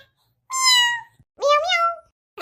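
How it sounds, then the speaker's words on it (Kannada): A cat gives two clear, drawn-out meows in quick succession, close and loud against a quiet room, the second rising then falling in pitch. "ನೀ ಸುಮ್ಮನೆ ಮಿಯಾವ್ ಅಂತಾನೆ ಇರು."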